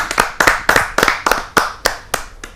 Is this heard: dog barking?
no